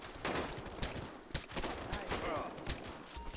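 Rapid bursts of gunfire from a GTA 5 zombie-apocalypse mod, shots cracking in dense clusters over a busy, loud game mix with repeated sharp transients throughout.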